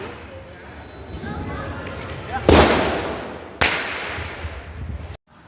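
Two sharp, loud firecracker bomb blasts go off outdoors during a Govardhan Puja celebration, each a sudden crack with a decaying roar, spaced about a second apart over a bed of background crowd noise.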